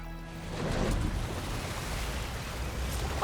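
Open ocean waves wash and swirl around a small boat moving across the water in Horizon Forbidden West, a steady mid-level rush of surf and wind with no talking.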